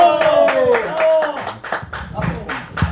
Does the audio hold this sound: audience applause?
yes